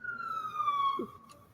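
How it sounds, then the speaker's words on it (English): Ambulance siren, a single wailing tone sliding slowly downward, distant and moderately faint, heard alone with a brief low murmur near the end. "I hear an ambulance."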